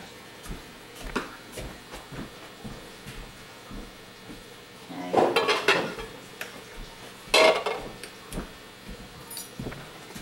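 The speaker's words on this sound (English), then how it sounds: "Now we'll stir that in." Soap mixture is stirred in metal pots at a soap-making workshop, with clanking, scraping bursts of utensil against pot standing out over a low background rumble.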